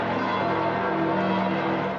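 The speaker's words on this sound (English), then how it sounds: "The bells of St. Peter ringing, echoing across the city of Rome and the world." The bells of St. Peter's Basilica in Rome ring out after a new pope is elected, a dense, steady wash of sustained metallic tones heard from afar.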